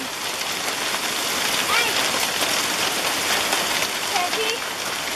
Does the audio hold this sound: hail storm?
yes